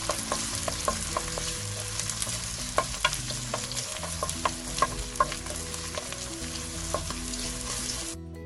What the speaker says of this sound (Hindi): प्याज को हमने अच्छी तरह से ब्राउन करना है।